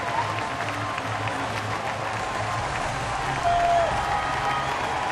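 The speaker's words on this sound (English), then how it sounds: "Listen to that crowd." A baseball stadium crowd at a Pirates home game against Miami cheers and applauds after a base hit, a broad, steady roar of clapping that swells slightly toward the end, heard from the broadcast booth.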